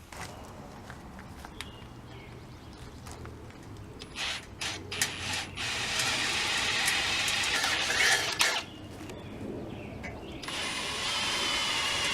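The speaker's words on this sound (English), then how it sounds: "Just drilled the pilot hole on all of them right there, and now I'm about to go through with the larger bit" Drilling through a boat trailer frame with a larger bit to mount bunk boards, a sustained grinding power-drill whine building over several seconds outdoors, broken by brief handling clatter and steps.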